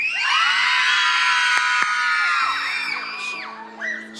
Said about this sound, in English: All my ladies, I want you to scream to so loud to where you can't scream no more.